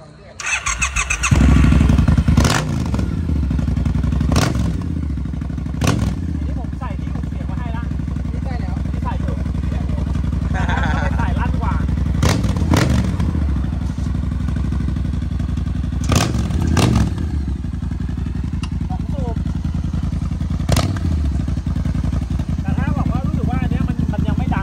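A customized Triumph Speed Twin 1200 motorcycle starts up and idles loudly nearby, its parallel-twin engine rumbling steadily with several sharp throttle blips and revs, with occasional clatter and voices in the background.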